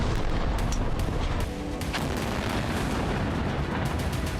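Heavy bombardment in Gaza: dense, continuous booming blasts and cracking gunfire-like bursts overlap loudly throughout, with no pause.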